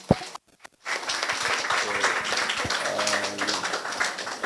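Audience applause at a hand fracture fixation workshop breaks out after a brief sharp tap and short pause, a steady spread of many hands clapping that carries on to the end.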